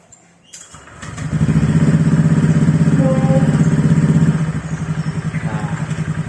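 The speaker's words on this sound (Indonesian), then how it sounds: "bisa kita dengarkan, ini adalah suara idle." Honda Vario 125 scooter fitted with an ABF Racing Standar Racing V2 exhaust starts up after a brief rustle, then settles into a steady, close, throbbing idle with an even pulse, loud and with no talk.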